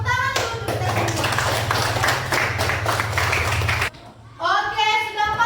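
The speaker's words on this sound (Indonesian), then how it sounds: "Tepuk tangan dulu untuk kita semua." A classroom of children applauding together in dense, steady clapping for several seconds that stops abruptly, with voices following.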